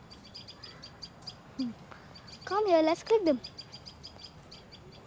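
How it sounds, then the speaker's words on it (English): Wild birds chirp in a tree outdoors, with steady high twittering throughout and a louder, longer call near the middle, while people speak quietly nearby. "It sounds like they're in that tree."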